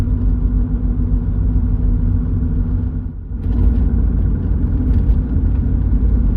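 A Mitsubishi Pajero diesel cruises at about 60 km/h under light throttle during DPF regeneration, giving a steady, loud low engine drone with a brief dip midway, heard from inside the vehicle.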